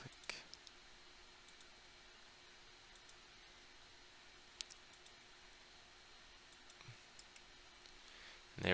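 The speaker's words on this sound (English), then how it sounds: "And then click." Computer mouse clicks in SolidWorks are quiet, sharp and scattered singly across a near-silent background, with a louder burst at the very end.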